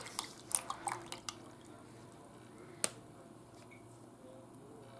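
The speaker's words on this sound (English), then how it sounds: "I'm going to let that drain." Liquid drips in a few sparse, separate drops from a whole raw chicken left to drain, with brief ticks early on, a single drop near the middle, then quiet between them.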